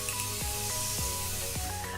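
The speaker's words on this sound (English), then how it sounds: "I'm gonna finish that off with my Morphe Prep and Set setting spray." A steady hiss of Morphe Prep and Set setting spray on a face, with a few soft puffs and faint clicks as the nozzle is pressed repeatedly.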